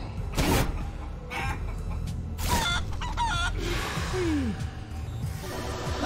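Chicken clucking in the video game Guacamelee 2, a few short clucks and a rising squawk over steady game music and ambience.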